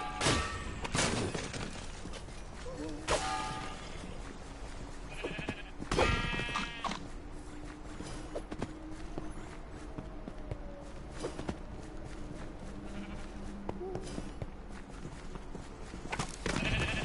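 Sheep in the video game Minecraft Dungeons bleat in several short, wavering calls spread across the stretch, mixed with in-game footsteps and busy game effects.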